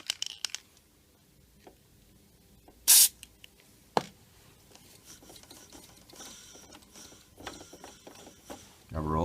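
White lithium grease sprayed onto a dehumidifier fan motor: quiet mechanical clicks and handling noises, one loud short aerosol spray burst in the middle, a sharp click, then faint fiddling and a final rising spray hiss.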